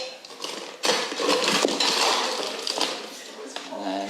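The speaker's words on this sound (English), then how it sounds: "then a couple of fresh ice cubes from there" Fresh ice cubes dropped into a cocktail glass topped with aquafaba foam, giving a few close, bright clinks and rattles amid kitchen handling noise.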